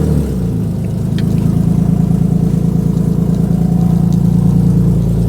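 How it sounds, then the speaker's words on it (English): A Nissan 370Z fitted with a cheap eBay catback exhaust cranks and fires up, then settles into a loud, steady, rumbling idle close by, with no talking. "Okay, I'm gonna start it."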